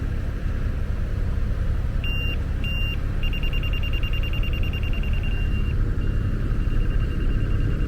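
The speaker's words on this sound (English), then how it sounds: "it'll beep beep beep beep beep whenever you indicate that you're where you need to be" A grade receiver chirps at target height on a construction site: two short beeps, then one long sustained tone and a fainter steady tone afterwards, all over a constant low engine and wind rumble.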